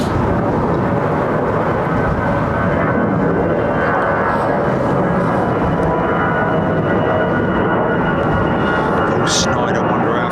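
A Lynx Air Boeing 737 MAX departs from Heathrow runway 09R, a loud, continuous broadband jet roar that fills the whole stretch without letting up.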